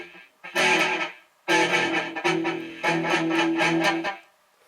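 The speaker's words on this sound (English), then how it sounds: "you can hear the delay and the feedback on this too" An electric guitar runs through a Digitech RP90 processor with delay and echo, its distorted strummed chords ringing out and repeating in trailing echoes across several bursts, loud and with no voice.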